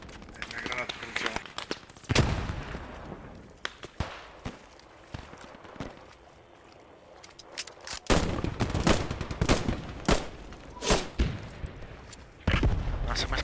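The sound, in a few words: gunfire and grenade in video game Post Scriptum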